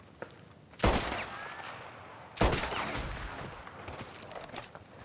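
Two loud rifle gunshots in Red Dead Redemption 2, fired at a hanged body, each a sharp crack followed by a long rolling echo, the second about a second and a half after the first.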